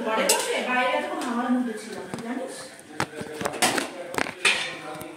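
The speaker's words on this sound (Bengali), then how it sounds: "বাসন মেজে দিচ্ছি" Dishes washed by hand at home, with pots and cutlery clanking and knocking in irregular bursts close by while people talk over them.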